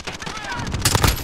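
Gunfire from a Call of Duty battle royale match, a jumble of rapid shots near and far blending into a dense burst, with voices talking over it.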